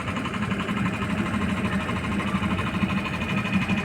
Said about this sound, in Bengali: নৌকাটা আবার ব্যাক করছি